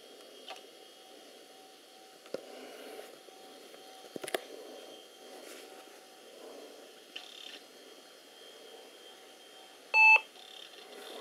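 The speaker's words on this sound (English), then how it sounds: "One beep." A single short electronic beep from a battery-powered flea-market gadget with a small screen, rising briefly and clearly above a quiet room hiss, alone with no talk.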